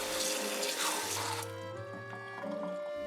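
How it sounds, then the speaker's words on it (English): Tap water runs into a sink to rinse cooked rice noodles, a close splashing stream that shifts in tone as the flow hits the noodles, with no talking. "Rinse them with cold water."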